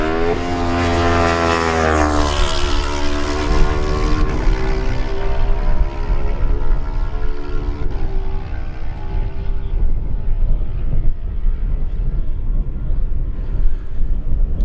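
Kawasaki lightweight racing motorcycle ridden by David Lumsden passing at speed on a road race course, a loud high-revving engine whose pitch sweeps and drops sharply as it goes by, then fades into a rougher distant drone.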